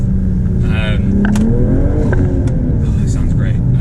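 A BMW G42 M240i fitted with an MST intake revs and lifts off, with induction fluttering as the throttle closes, loud and close, while someone talks over it.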